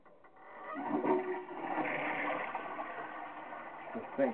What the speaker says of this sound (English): And then as soon as you flush the toilet,